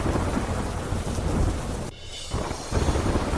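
Heavy rain pours steadily with wind, and deep thunder rumbles through it. The downpour drops away sharply for a moment, then surges back louder, with no voices heard.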